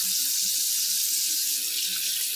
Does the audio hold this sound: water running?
yes